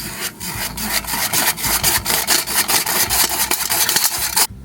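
Dry baking ingredients with cream of tartar and kosher salt being sifted, a close, loud rhythmic scraping and rasping of the sifter, repeated many times in quick strokes with no talking.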